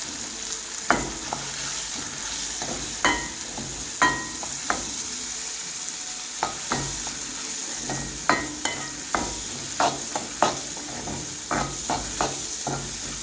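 Curry leaves and tomatoes sautéing in a pan for chicken chukka, a soft steady sizzle punctuated by repeated sharp clicks and scrapes of a spoon stirring against the pan.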